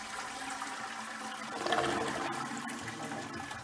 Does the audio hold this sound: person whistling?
no